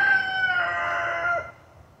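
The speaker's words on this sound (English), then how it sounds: "Yes, we have chickens." A rooster among backyard chickens in east Texas crows once, a clear, drawn-out call close to the microphone that trails off near the end, with no talk.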